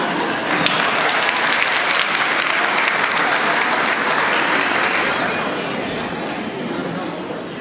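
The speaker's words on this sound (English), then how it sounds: "Once again, all round of applause for Mr. Flanagan." Loud, sustained applause from a large audience at an elementary school's 100-year celebration in a banquet hall, dense and steady, tapering slightly toward the end.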